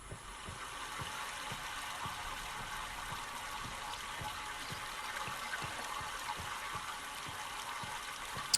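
Steady flowing water from the video game Myst, a continuous even wash of stream-like rushing that holds constant for the whole stretch with no voices over it.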